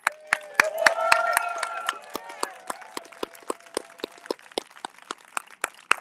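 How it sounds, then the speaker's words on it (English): Outdoor rally crowd on a hot day giving scattered applause, sharp individual claps repeating steadily with a voice briefly underneath near the start. "We have another big round of applause."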